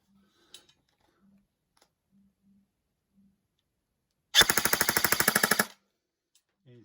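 Specna Arms AK-105/74 airsoft rifle firing a full-auto burst at about 767 rounds per minute, a rapid loud rattle of roughly fifteen shots lasting just over a second after near silence.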